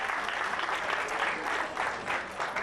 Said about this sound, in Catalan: Aplaudiu-los amb ells també